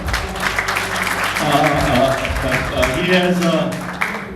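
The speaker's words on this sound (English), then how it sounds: "So I want to give him a big round of applause for that." A community parade council meeting breaks into applause for its president, with mixed clapping from the gathered members under background voices and talk.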